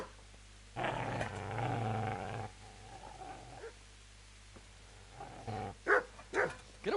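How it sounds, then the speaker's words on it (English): A dog growls in a long low rumble, pauses, then gives a few sharp barks and yips near the end, fairly close but modest in level, with no talking over it. "Get away, you mutt!"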